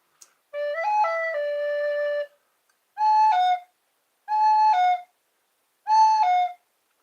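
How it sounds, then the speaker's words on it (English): A cuckoo bird call rendered as clear whistled tones: one long wavering note followed by three shorter, evenly spaced calls, loud and close against silence, with no talking. "That's a cuckoo bird."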